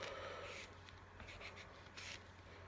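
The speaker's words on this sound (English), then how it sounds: "let me write this down." Pen scratching on paper while someone writes a table of values, close and faint, with soft strokes and a couple of brisker scribbles over a low background hum.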